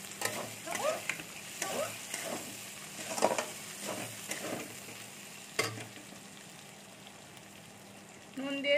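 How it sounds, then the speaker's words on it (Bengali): Chopped tomatoes go into ginger and garlic frying in a pan for ghugni and sizzle steadily, with intermittent scraping and stirring strokes and no talking. "এর মধ্যে আমি টমেটো কুচোগুলো দিয়ে দিচ্ছি।"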